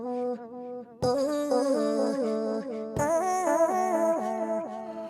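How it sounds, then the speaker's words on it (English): A chopped vocal sample in a modern beat, run through a quarter-note analog delay, so sung notes step and repeat in echoes that trail behind each phrase, loud and upfront, with a fresh hit restarting the phrase midway. "Now, when I added the quarter note delay in, the analog delay, I got this."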